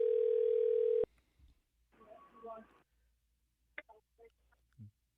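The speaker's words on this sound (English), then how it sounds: "the phone's talking over to my right while it's ringing on the left" A radio call-in studio phone line gives a loud steady tone for about a second, then cuts off. Brief faint noise and a few soft clicks follow.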